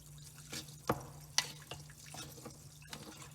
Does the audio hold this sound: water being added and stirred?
yes